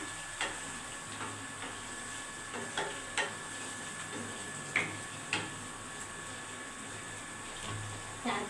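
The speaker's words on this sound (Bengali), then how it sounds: "পনির দেওয়ার পরে আমি একটু হালকা নেড়ে দিচ্ছি" Paneer pieces being lightly stirred in a pan for a curry, soft intermittent scraping taps of a spoon at irregular intervals over a quiet low sizzle, close and faint.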